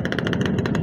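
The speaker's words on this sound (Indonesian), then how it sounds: "Maaf teman-teman ya, sangat berisik nih motor King nih ya" A noisy Yamaha-style King motorcycle engine idling, a rapid, even mechanical putter with sharp rattling pulses, close and steady through a brief moment.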